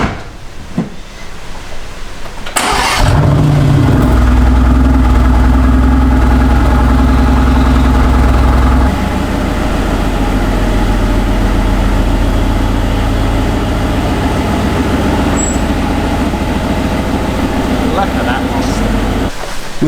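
A Mercedes AMG GT R Pro fires up from cold with a sharp burst. It settles into a loud, deep high idle that drops to a steadier rumble partway through, and voices can be heard faintly over it.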